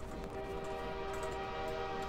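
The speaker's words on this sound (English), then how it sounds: "Now we can see the train has a horn, although sound's coming from the right." A steady, sustained train horn from a tank train in a Source engine Hammer map, a held tonal blare over rumbling rail noise, heard from one side at moderate distance.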